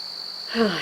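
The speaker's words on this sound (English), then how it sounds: "I think there's a cricket in here." A cricket chirps indoors with a steady high, thin trill throughout, close and fairly loud; a broader rustle joins near the end.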